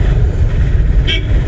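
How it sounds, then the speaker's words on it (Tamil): A car horn gives a short toot over loud, rumbling road and engine noise inside a vehicle during a driving lesson, brief and slightly distant. "அவர் ஹார்னிக்கெல்லாம் காதில் வாங்காதீங்க"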